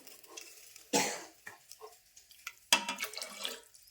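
Water is poured into a pot to make a gram-flour pitla with coriander leaves, heard as two short, splashy pours close by, about two seconds apart, with faint kitchen handling between them.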